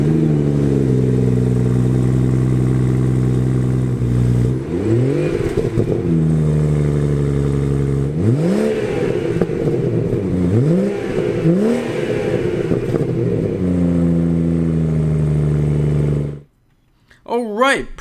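A 2017 BMW 4 Series Gran Coupe engine idles loudly, then is revved in several rising and falling swells before cutting off near the end; a voice may be faintly present.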